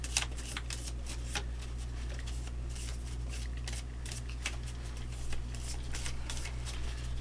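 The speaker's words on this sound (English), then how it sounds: "you know what I didn't do while I was sitting here talking was shuffle my deck" A deck of cards is riffled and shuffled for a tabletop card game, quick crisp flurries of flicking cards repeating close by in a steady rhythm.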